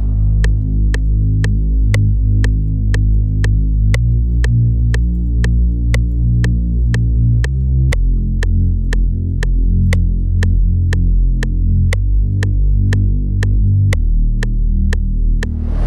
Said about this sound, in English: For this one, I'm going to start with a bass line